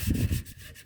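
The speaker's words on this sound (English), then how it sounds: "A bit of sandpaper, a bit of 80 grit sandpaper, stop it sticking to my rag, and I'll just run around the shoes" Coarse 80 grit sandpaper rubbed around drum brake shoes, a short close scraping rub that is loud at first and then eases off.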